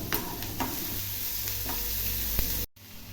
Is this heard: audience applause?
no